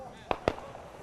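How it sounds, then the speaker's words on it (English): Fireworks near a New Bedford baseball field on a summer night give two sharp pops in quick succession, fairly faint, over crowd murmur and a broadcaster's play-by-play. "More fireworks off to our right."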